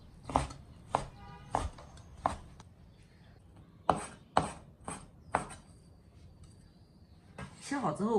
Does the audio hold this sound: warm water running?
no